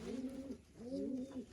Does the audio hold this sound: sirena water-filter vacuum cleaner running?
no